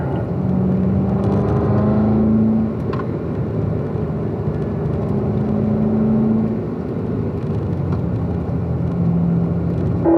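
A car engine drones steadily on a race track as it powers out of a corner, loud and close, with the revs swelling and easing in a few broad surges.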